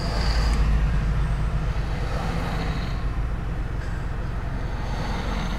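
An electric tram runs along a narrow street shared with cars, giving a steady low rumble that stays loud and continuous throughout, with no voices.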